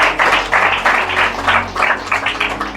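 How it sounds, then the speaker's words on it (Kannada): A church congregation claps at a Sunday healing prayer and worship service, a loud and close burst of rhythmic group clapping in steady pulses lasting a few seconds, with no talk over it. "ಚಪ್ಪಾಳೆ ದೇವರ ಮಹಿಮೆ ಆಗಲಿ."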